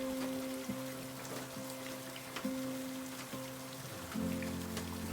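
Rain falling at night near a wooden cabin on a rice-terrace slope, a soft steady patter with scattered louder drops and a low tonal hum running beneath, no voices.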